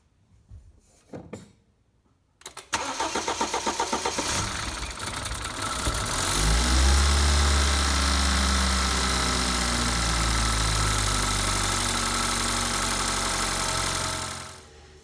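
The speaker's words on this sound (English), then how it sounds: "and start it up. It's going to run a little rough in the beginning" A BMW N20 four-cylinder engine cranks and catches after a few quiet clicks, then settles into a loud, uneven, rough idle from air in the fuel lines that runs steadily before cutting off.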